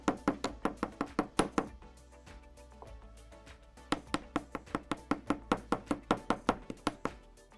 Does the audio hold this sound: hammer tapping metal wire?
yes